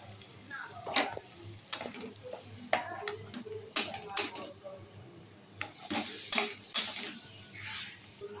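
Raw plums dropped into a pan of cooking tomatoes with turmeric and salt, giving soft clatters and light sizzling over a steady low hum, close by, with scattered sharper knocks of the pieces landing.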